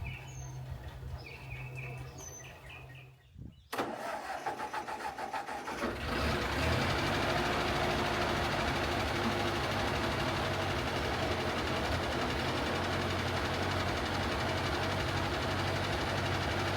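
An old tractor engine cranks, catches after a few seconds of birdsong, and settles into a steady, loud idle that runs on fresh fuel without stopping.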